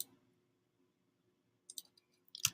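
Computer mouse clicks come after a near-silent stretch, with a few faint, crisp taps followed by a tighter cluster of sharper clicks at the end. They are close-up and isolated, with no voice.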